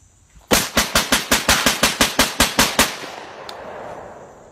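A handgun fires a full magazine loaded with a mix of different rounds: about a dozen loud, sharp shots in a quick, steady rhythm, then echoing tail and quiet.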